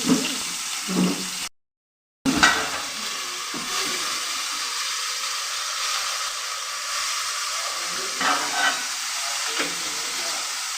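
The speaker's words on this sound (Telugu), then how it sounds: "ఇప్పుడైతే ఇందులో టొమాటో ముక్కలు యాడ్ చేసుకోవాలండి ఆయిల్లో వేసాం కదా" Tomato pieces frying in oil in a home kitchen, a steady hissing sizzle with occasional stirring scrapes, cut by a short silent gap near the start.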